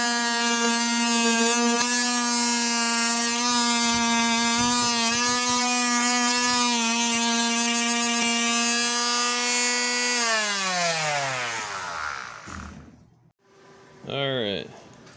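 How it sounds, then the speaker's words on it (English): A small electric sander working on a guitar body, a loud steady high-pitched motor whine held for ten seconds before winding down, then a brief restart burst near the end. "Gotta get some sanding done."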